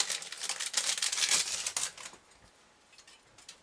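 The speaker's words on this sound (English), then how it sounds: "Take it out of its packaging." A computer motherboard back plate is pulled out of its packaging, close crinkling and rustling bursts that fade into a few faint scattered rustles.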